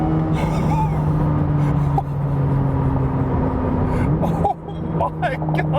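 A 2026 Chevrolet Corvette ZR1X accelerates hard, its engine a loud, steady drone from inside the cabin that climbs in pitch toward the end, with a sharp gasp from an occupant.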